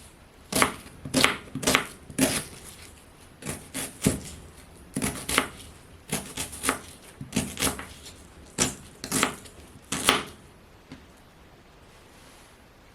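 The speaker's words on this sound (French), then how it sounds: "vous faites comme moi, des petits bouts" A knife chops turkey meat into small pieces on a cutting board in sharp, close knocks that come in irregular bursts of quick strokes with short pauses between them.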